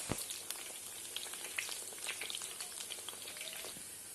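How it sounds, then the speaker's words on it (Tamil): Drumstick leaf vada frying in oil over a moderate flame, a faint, steady sizzle with scattered tiny crackles and one sharp tap near the start, heard alone without voices. "மிதமான சூட்டில் இதை வேக வச்சு நம்ம எடுக்கணும்."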